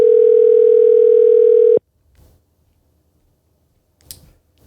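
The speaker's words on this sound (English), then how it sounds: "we have a phone call from a current senior right now" A steady telephone dial tone sounds loud and clean for almost two seconds, then cuts off abruptly, leaving near silence broken by a couple of faint handling clicks.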